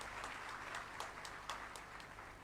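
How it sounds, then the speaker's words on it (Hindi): Applause from a crowd welcoming Suzuki Motor executives at an event at the Suzuki plant in Sanand, a steady, even patter of many hands held at a moderate distance throughout. "उनका तालियों से स्वागत करेंगे।"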